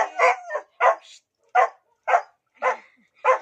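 Several pet dogs in a household barking in a series of about seven sharp, loud, close barks with short pauses between them, spread across a few seconds.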